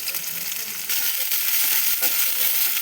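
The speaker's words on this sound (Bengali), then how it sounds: "আমি রসুনটা ভেজে, পেঁয়াজ আর রসুনটা ভেজে নেবো একবারে।" Chopped onion and garlic sizzle in hot oil in a pan, a steady close crackling hiss that swells slightly after the first second and carries on without talk.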